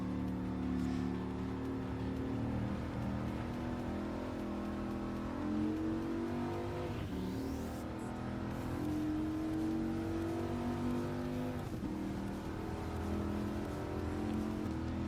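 Race car engine from Gran Turismo 7 on the Autopolis circuit, a loud continuous high-revving drone with gear shifts and pitch sweeps through corners, close and alone without talk.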